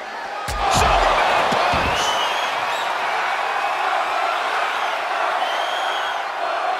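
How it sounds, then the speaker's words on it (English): A wrestling arena crowd roars loudly and steadily after a spear, a dense sustained wall of cheering with a couple of sharp slams and thumps near the start. "The sound of this crowd is deafening, and he's asking for more."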